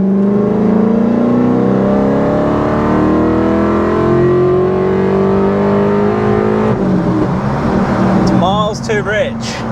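A supercharged BMW E39 M5 with an upgraded fuel pump pulls hard in third gear, its engine note climbing steadily and loud from inside, then easing off at the end as people start talking.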